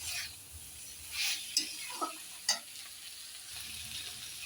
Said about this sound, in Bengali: এখন দিয়ে দেবো ভেজে রাখা মাছগুলো, দিয়ে একটু ভালো করে নেড়ে নেব আলতো হাতে